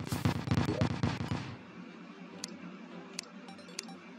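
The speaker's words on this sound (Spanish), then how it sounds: "Explosión." Burst of explosions in the video game Terraria, a dense crackling blast lasting about a second and a half, followed by quieter game ambience with three short sharp pops.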